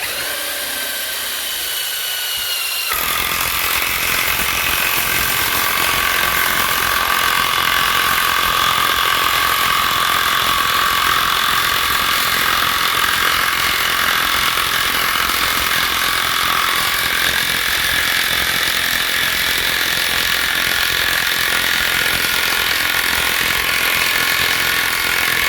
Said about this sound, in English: The impact wrench is still gonna have to do all the hard work.